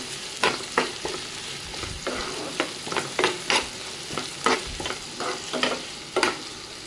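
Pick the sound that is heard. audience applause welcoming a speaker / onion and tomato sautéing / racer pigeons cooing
onion and tomato sautéing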